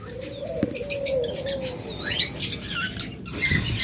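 Small caged birds for sale, lovebirds, budgerigars and java sparrows, chirping and tweeting in a busy overlapping chorus, with one sustained whistle and sharp high calls close to the microphone and no talk.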